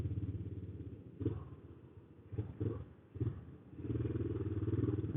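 A Yamaha Scorpio motorcycle idles and creeps through a traffic jam, its low engine rumble rising and falling as it pulls forward, heard close through a band-limited helmet intercom with faint clatter.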